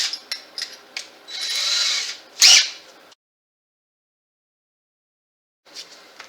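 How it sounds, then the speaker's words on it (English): Power drill cutting a 35 mm hole with a drill bit for a DIY lamp, heard as short whirring bursts, a longer grinding run and a sharp squeal, then a pause of silence before a brief final whir. "I'm going to drill that hole out first so I can put my rod in"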